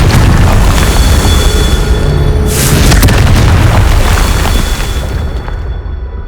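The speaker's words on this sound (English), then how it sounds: "Confringo!" A Confringo spell explodes in the video game Hogwarts Legacy: a loud, deep boom with a rumbling, crackling burst that rolls on for several seconds before slowly fading.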